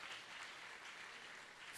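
Church congregation clapping at an anniversary service, a soft, distant patter of applause lasting under two seconds without speech.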